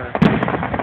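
Fountain firework gives a short sputtering, crackling spray, close and fairly loud, with a sharp burst near the start.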